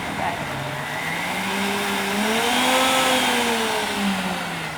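A blender whirs steadily while mixing a smoked ice cream base, its motor pitch rising gradually as the speed is turned up slowly, loud and continuous throughout.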